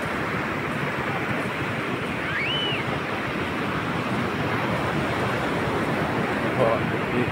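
Ocean waves rolling in at Sabang Beach, a steady, close, broadband surf wash with some wind buffeting, continuous throughout.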